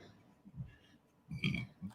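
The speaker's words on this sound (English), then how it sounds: "you got a prawn fried rice belch" A belch after a meal of prawn fried rice, one low guttural burp swelling in the middle and trailing off into a shorter rumble, fairly close and unaccompanied.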